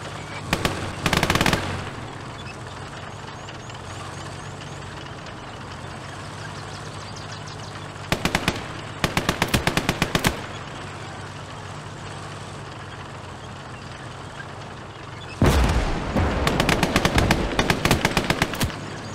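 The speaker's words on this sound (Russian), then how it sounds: "А, это пулемет." Machine gun fire in Call to Arms: Gates of Hell, loud rapid bursts in three separate volleys over a steady low engine rumble, with no talk.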